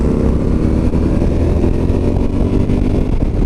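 A 2021 Honda Africa Twin 1100 motorcycle pulls hard uphill on a winding mountain road, its engine a loud, continuous, close-up roar with steady throttle throughout and no speech.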